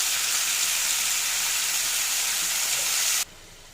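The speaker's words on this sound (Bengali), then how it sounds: "এখন মশলাটাও দিয়ে দেবো। আমি মশলাটা দিয়ে দিচ্ছি।" Spices and meat for haleem sizzle in a hot pan with a steady, loud hiss that stops abruptly near the end.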